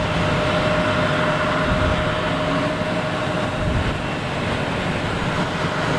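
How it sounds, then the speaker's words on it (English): A Delta Airbus A220 takes off at Boston Logan Airport, a steady, loud broadband jet roar that holds evenly throughout without fading, with no voices. "we have Delta taking off, an A220"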